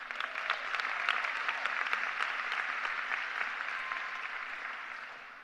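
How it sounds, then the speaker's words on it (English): Audience applause at a William T. Dwyer High School event, dense and sustained clapping that holds steady and then slowly fades toward the end, with no talking over it. "Give him a round of applause."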